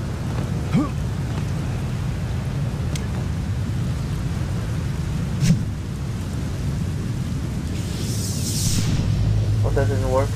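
Thunder rumbling with steady rain in Clive Barker's Undying, a continuous low storm wash with a couple of sharper cracks and a brighter crackle near the end.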